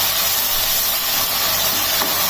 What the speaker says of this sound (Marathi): आता हे आपण छान असं परतून घेऊया.